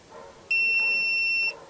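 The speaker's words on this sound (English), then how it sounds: "uh, press 3 seconds more, and we have the alarm" A tire pressure monitoring system alarm sounds a single steady high-pitched electronic beep lasting about a second, loud and close, with no talk.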